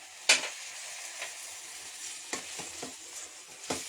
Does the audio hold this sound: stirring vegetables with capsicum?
yes